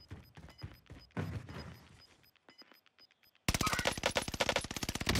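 Rapid automatic gunfire bursts out loud in a shooter video game after quieter scattered shots and clicks, a dense volley of evenly spaced cracks filling the final two seconds.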